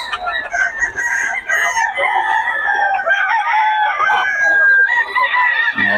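Boston Lemon bloodline gamecock rooster crowing loudly and close, with overlapping clucks and other fowl calls in a continuous busy chorus, and faint voices in the background.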